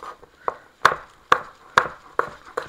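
A jalapeño pepper is chopped with a knife on a board for a simple salsa, giving a steady series of about eight sharp, close chops roughly half a second apart.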